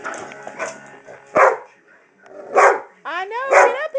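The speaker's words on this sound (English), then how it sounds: "Petey, stop barking." A dog barks and yips in a few short bursts, with people talking in the background.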